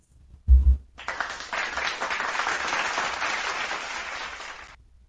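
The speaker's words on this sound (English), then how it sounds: "Let me give myself an applause." A burst of applause rises just after a low thump and continues as an even, steady clatter of clapping for about four seconds before cutting off.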